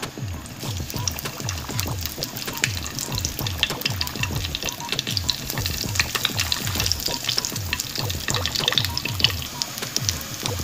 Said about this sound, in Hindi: सबसे पहले मैं डालूँगी साबित मिर्च, ज़ीरा